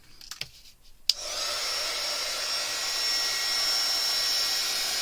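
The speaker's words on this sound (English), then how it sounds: "I am going to have to turn my heat gun on." A heat gun switched on for melting embossing powder: a click, then a steady loud whooshing blower drone with a high whine that keeps running, after a few soft handling taps.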